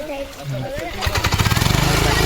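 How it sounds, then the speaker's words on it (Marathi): A paddy-field tractor starts on its starter motor: a brief grinding crank, then the engine catches into a loud, fast, rhythmic chugging that runs to the end, close by, with someone talking over it. "आता बावा ट्रॅक्टर सुरू करतोय. असं स्टार्टर मारून ट्रॅक्टर सुरू करायला लागतं."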